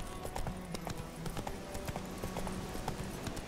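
Hooves of a horse in The Witcher 3 clip-clop in a quick, even trotting rhythm, with closely spaced hits that stay steady and moderately quiet throughout.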